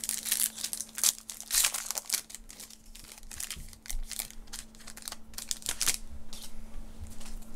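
A foil trading card pack wrapper for WWE 2018 Road to WrestleMania cards is torn and crinkled open, producing loud, close, bursty crackling and rustling in irregular clusters throughout.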